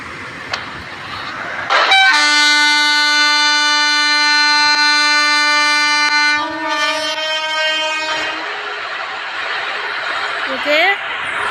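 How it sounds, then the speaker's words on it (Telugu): A locomotive in a mobile train video game sounds a long, loud multi-tone horn blast lasting several seconds, followed by the rumble of the engine starting up and a brief second toot near the end. "హారన్స్ అవే మనం ఇంజిన్ ఆన్ చేసుకొని ఫార్వర్డ్ పెట్టుకొని వెళ్తామే"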